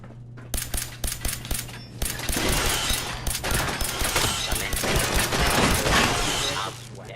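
Rapid gunfire in Fallout 4 starts as spaced single shots and builds into a dense, loud, sustained automatic barrage with clattering mechanical sounds. No one speaks over it.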